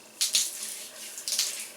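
Water-soaked natural hair squelches wetly as product is worked through it during a wash and go, two short bursts of close, soft squishing.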